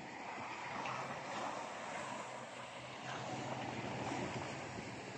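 Ocean surf at the seashore, a steady broad roar of breaking waves and wind that runs continuously and fairly loud, with no talk.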